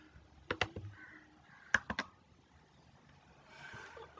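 A few scattered keyboard clicks in a quiet room, a pair of taps early, then a short cluster, followed by faint background noise.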